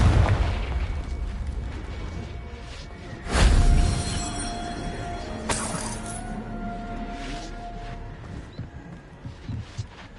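A Confringo blasting spell goes off in Hogwarts Legacy as one loud, close explosion with a sharp crackling burst, then a second smaller blast and a fading, debris-filled rumble.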